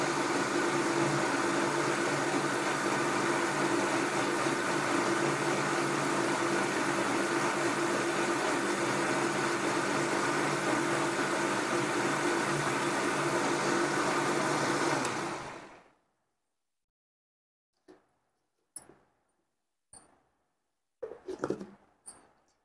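An electric mixer blending a mango shake whirs loudly and steadily for about fifteen seconds, then cuts off abruptly, followed by a few faint clicks and knocks in the quiet.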